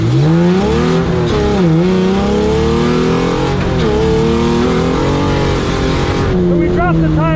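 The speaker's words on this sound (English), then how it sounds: "This car is running horribly." A VTEC-swapped Baja Bug engine runs rough and loud, its uneven droning revs rising and falling steadily under a voice.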